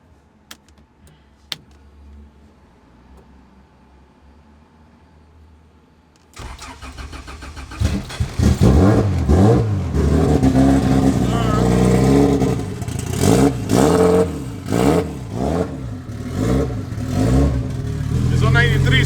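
A Honda Civic EG hatchback running on 93 octane cranks briefly and catches, then idles roughly and loud close by with a few blips of revving over a steady engine drone.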